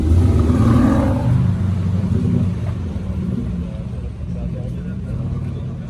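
A passing Aston Martin's engine gives a loud, close, rumbling drive-by that fades as the car moves off, with voices talking over it.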